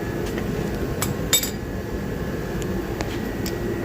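Metal sockets clinking in a shop during work on a 2000 Ford Excursion, a few light, sharp metallic taps and one brighter clink over a steady background hum.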